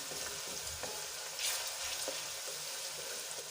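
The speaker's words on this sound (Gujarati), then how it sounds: "મેં અહીંયા પાતળું તેલમાં જ હિંગ નાખીને ડુંગળી એડ કરી દીધી છે" Onion frying in a thin layer of oil with asafoetida for pav bhaji makes a soft, even sizzle, fairly quiet and close, with faint occasional stirring ticks.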